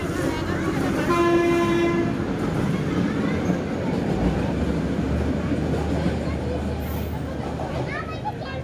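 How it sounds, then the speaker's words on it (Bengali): A shunting locomotive hauls a single rail coach along the line, sounding a steady horn blast early on over continuous rumbling rail noise, with people talking nearby throughout. "এটা একটা বগিকে আরেক জায়গায় টানি নেয়।"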